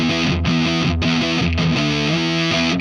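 Heavily distorted electric guitar, driven hard through a limiter, plays loud sustained chords and riffs with a constant hiss of high noise floor running underneath and no gaps in the sound.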